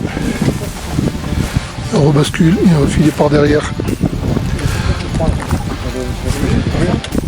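Wind buffets the microphone in a loud, constant roar on a mountain pass on the GR 20 trail while a person speaks over it.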